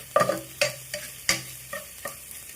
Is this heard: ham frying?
yes